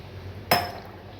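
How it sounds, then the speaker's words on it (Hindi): A glass of water is tipped into spiced masala frying in a pan for nargisi kofta curry, causing one sudden loud burst of sizzling that fades over a fraction of a second against a steady background hiss. "अब 1 गिलास में इसमें पानी शामिल कर रही हूँ"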